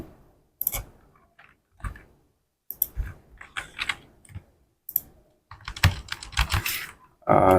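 Someone types a short value on a computer keyboard while building a 3D game asset in modeling software, then presses enter. Close, sparse clicks come in small bursts with pauses, ending in a firmer keystroke.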